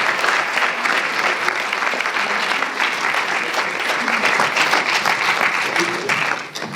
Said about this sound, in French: Donc vraiment, il faut l'applaudir.